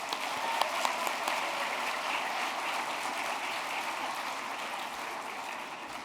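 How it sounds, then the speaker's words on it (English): A school crowd at an eighth grade recognition ceremony gives the parents a sustained round of applause, even and moderately distant, with a few louder claps near the start. "Why don't we give a quick round of applause to the parents, guys?"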